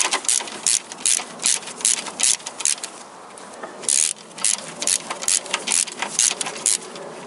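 Ratchet wrench loosening exhaust manifold bolts on a Toyota Corolla VVT-i engine, with close, repeated rapid clicking bursts in short uneven strokes and brief pauses between.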